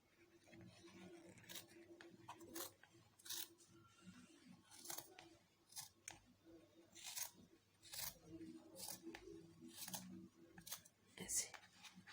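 Scissors cutting cotton fabric pieces for a homemade face mask, a series of quick crisp snips at an irregular pace, close but quiet, with a voice talking underneath.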